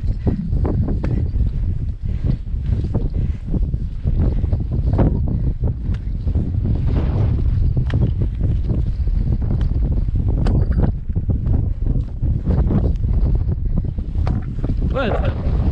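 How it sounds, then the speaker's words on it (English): Strong wind buffets the microphone on an exposed hillside of Fountains Fell in winter, a loud, continuous roar that fills the whole stretch with no speech over it. "It's not dangerously windy."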